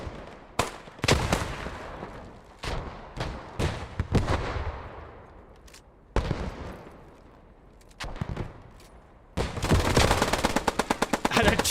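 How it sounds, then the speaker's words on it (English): Machine guns trading fire in the Post Scriptum video game, loud sharp bursts and single cracks with echoing tails, a heavier blast among them, ending in a fast continuous automatic volley. "Both machine guns trading with each other as a grenade goes off as well."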